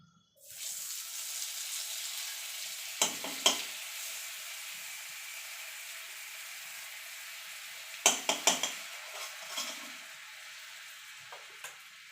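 Butter goes into leftover frying oil after paneer has been fried and breaks into a sudden loud sizzle that settles into steady frying, broken by a few quick scraping or stirring clatters.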